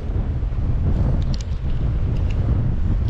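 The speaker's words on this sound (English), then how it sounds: "that wind is getting ferocious." Strong wind buffeting the microphone beside a creek, a loud continuous low rumble with gusty swells throughout.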